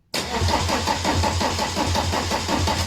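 A VW T25 camper with a swapped-in TDI diesel engine cranks over on the starter, a loud, close, rhythmic chugging that begins abruptly and pulses evenly for a few seconds without firing into a run.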